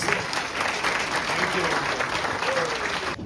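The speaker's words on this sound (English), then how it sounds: "Please give him a big round of applause." Guests at a retirement celebration applaud warmly, a full and sustained burst of clapping from a crowd, with faint voices beneath it, lasting the whole stretch before cutting off.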